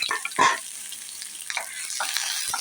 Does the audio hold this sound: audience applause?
no